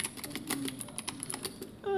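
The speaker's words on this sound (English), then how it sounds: "Okay, there we go. I've typed something." Rapid, light keystrokes on a small computer keyboard patter close by for about two seconds, followed by a brief electronic tone.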